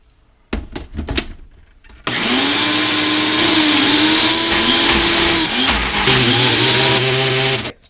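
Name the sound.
Ninja appliance blending toasted walnut hummus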